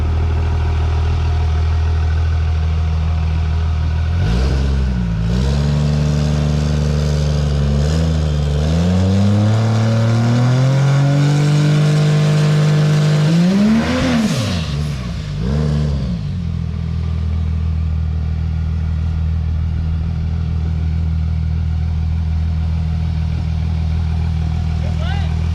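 A Cummins diesel drag truck builds boost and launches, its engine note sweeping up through a long rising pull before dropping back to a steady rumble, loud and close, with voices talking over it.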